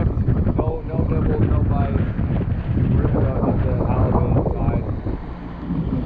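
Strong wind buffets the microphone on a small fishing boat out on San Diego Bay, a constant loud roar with choppy water slapping beneath, and a voice faintly mixed in.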